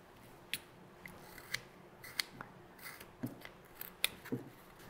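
Knife blade undercutting a stop cut while carving a face in wood, heard as sparse, quiet snipping clicks and short scrapes spaced irregularly across the stretch, close to the microphone with no talking.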